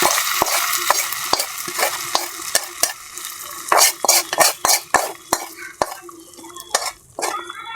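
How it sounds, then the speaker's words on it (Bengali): Browned bagar tempering is stirred into veggie khichuri in a pot, giving a bright, loud sizzle with repeated sharp scrapes and clinks of a spoon in an uneven rhythm. "আমার বাগার এখন এটা আমি খিচুড়ির মধ্যে দিয়ে দিলাম"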